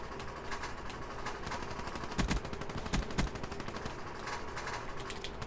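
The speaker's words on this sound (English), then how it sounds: "I got someone shooting at me from the window" Rapid bursts of gunfire in the Call of Duty Black Ops III video game, a steady crackle of shots with a few louder cracks standing out, all at moderate level.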